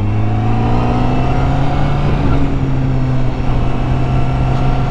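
A 2020 Honda CBR 1000 RRR SP Fireblade sportbike accelerates hard, its engine note holding a loud, smooth high-pitched whine that climbs steadily, heard close from the rider's position with wind noise underneath and no talking.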